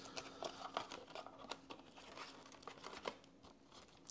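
A deck of board game cards is shuffled close up, giving a soft, crinkly riffling patter with small flicking snaps throughout, quiet and with no talking.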